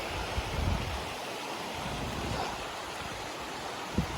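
Steady rushing water fills the scene, a dense continuous roar of Koraiyar Falls in a forest, with no voices, occasional soft thumps underneath.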